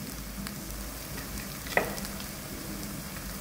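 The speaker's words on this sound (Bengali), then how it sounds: "সুগারটা ক্যারামেলাইজ হতেই এটাকে নামিয়ে নেবো আমি এখন।" Chicken roast, South Indian style, fries softly in a pan as sugar sprinkled on top caramelizes: a faint, steady sizzle with one brief clink of stirring midway.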